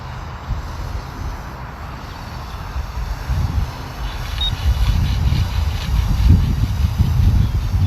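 A small FPV drone hums and drones overhead as it descends to land on Hogsback Ridge, its motor noise steady at first and then growing louder and closer toward the end, with wind rumble beneath and no voices.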